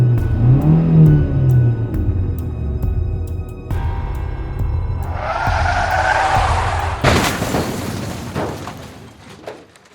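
A car speeds away in a panic, its engine revving hard as it accelerates, followed by a loud skid and a boom-like crash that fades out; no one speaks.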